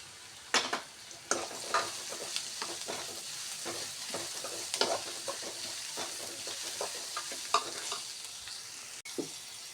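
Red chili powder fries in a pan for paneer masala, with a soft, steady sizzle broken by frequent scrapes and clicks of stirring, close and without talk.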